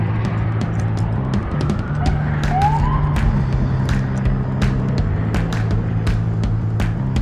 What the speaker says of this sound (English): There's a helicopter flying over, sirens.